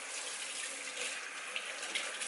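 Cold water runs steadily from a tap while a snowshoe hare is being cleaned after skinning, a bright continuous close splash with small spikes from the stream hitting the surface, no talking.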